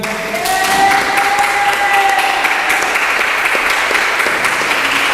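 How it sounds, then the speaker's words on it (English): An audience at a pro-am racquetball tournament final applauds the event organizers, with dense, loud, sustained clapping from a crowd that swells early and carries on evenly to the end. "just a huge round of applause for John and his staff and his parents"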